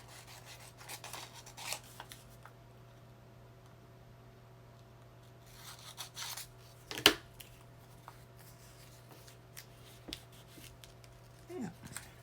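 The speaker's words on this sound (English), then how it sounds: "Trim it down." Scissors snip and trim paper from a junk mail envelope being made into journal pockets, a few faint, close cuts and light paper rustles scattered over a quiet background hum.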